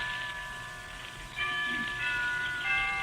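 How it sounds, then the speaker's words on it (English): Soft, sustained bell-like tones ring over quiet background hiss, with a few new strikes layering in and lingering. "Why don't we both just sit here and listen to the chimes for a while?"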